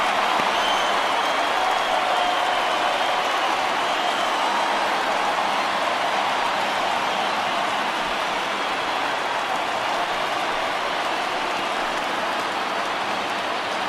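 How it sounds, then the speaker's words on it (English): Padres home baseball crowd in a packed stadium cheering and growing louder during a full-count at-bat, a steady dense roar of noise with no break across the whole stretch. "Padres crowd getting loud to try to will Stammen to get out of this one."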